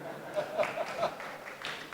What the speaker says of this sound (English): Yoav is entitled to a round of applause